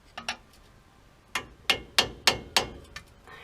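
A chisel struck with a hammer to break a 2008 Toyota Hilux front wheel hub free of its backing plate, giving a series of sharp metallic blows, a couple of light taps and then five heavier strikes at a steady rhythm.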